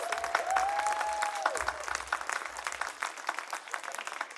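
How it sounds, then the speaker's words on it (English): An audience applauds steadily at a school's annual production, dense clapping filling the room at a fairly loud level, tapering slightly toward the end. "Please give them a big round of applause."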